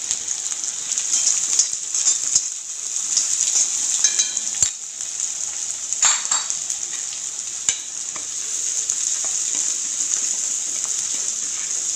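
Sliced small shallots sauté in hot oil in a pan, a steady bright sizzle that runs continuously, with occasional soft clicks and scrapes of stirring; no voices are present.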